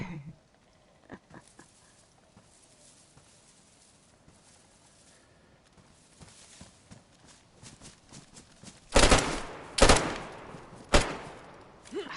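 Gunfire in a third-person shooter video game: a few quiet early pops, then several loud sharp bursts of shots in the last few seconds, with no talking.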